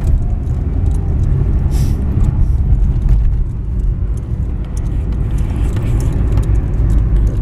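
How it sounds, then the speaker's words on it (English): Road traffic rumbles continuously as cars pass by during lockdown, a dense low roar from nearby vehicles with no clear gaps between them. "Lots of cars stand by."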